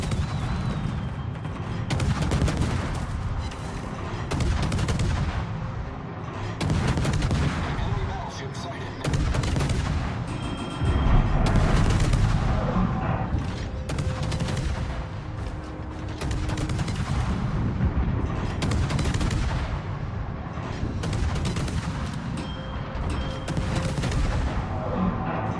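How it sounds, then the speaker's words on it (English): Anti-aircraft guns blazing in World of Warships aboard the cruiser Marceau. A continuous barrage of rapid booming shots and thuds rolls on without pause, dense and loud throughout, with faint mechanical tones mixed in. "Anti-aircraft gun crews are on full alert."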